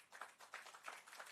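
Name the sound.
audience applause for the Prime Minister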